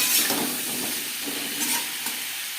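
Potatoes frying in oil with salt and turmeric for a vegetarian potato and pointed-gourd curry: a brief, even, close sizzle with faint stirring and no pauses.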